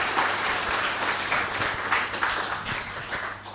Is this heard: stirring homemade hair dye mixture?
no